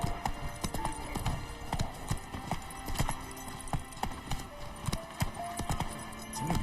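Hooves of the horse Roach clip-clop in a video game, a brisk and uneven run of sharp hoof strikes at close range, with faint tack jingles and no voices.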